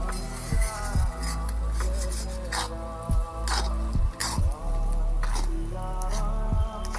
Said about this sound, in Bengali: এবার আমি এইভাবে ভালোভাবে নাড়তে থাকবো। এটাকে নেড়ে নেড়ে একদম শুকনো শুকনো করে নিতে হবে।